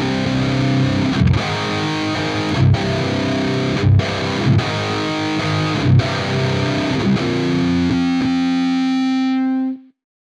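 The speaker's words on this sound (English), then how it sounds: "I'm going to leave the transpose block enabled and I'm going to drop down 2 semitones" A distorted electric guitar riff is played through a Quad Cortex with a transpose block set two semitones down. Rhythmic, punchy chords ring out alone and end on a sustained note that cuts off sharply.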